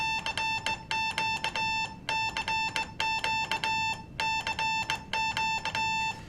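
Rapid pattern of steady single-pitch beeps, a Morse code CQ call on amateur radio, short and long tones in a rhythmic sequence, repeating over a faint hiss of background noise.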